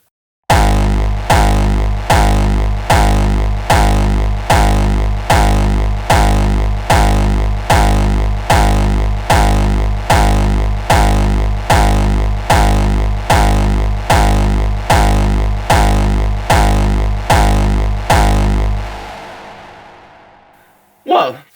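Distorted 909 hardstyle kick drum run through a bit crusher used as a clip limiter, about twenty heavy booming hits in a steady fast pulse, loud and alone, ending with a decaying tail and one final short hit.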